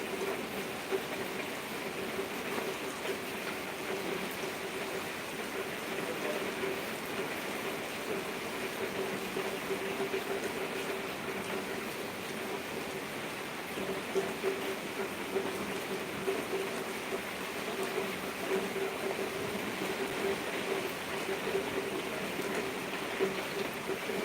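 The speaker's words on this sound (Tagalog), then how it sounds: "It's raining." Steady rain falls as a constant soft hiss with scattered faint drop patter, even and unbroken throughout, with no voices.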